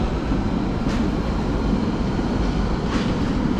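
A London Underground Central Line train heading out of a station: a loud, steady rumble of rail movement with faint squeals, heard up close and continuous.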